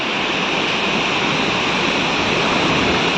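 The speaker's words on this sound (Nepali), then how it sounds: "यति बेसी पानी परिरहेको छ।" Heavy rain falls beside a stream in Gangtok, making a steady, dense roaring hiss that stays constant and loud throughout, with no voices.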